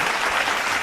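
An audience applauds a singer's performance on a Kannada television singing reality show: dense, even clapping from a crowd, continuous and moderately loud throughout.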